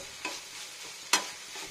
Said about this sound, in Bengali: এবার খুব তাড়াতাড়ির মধ্যে এটাকে ঘুরিয়ে নেব।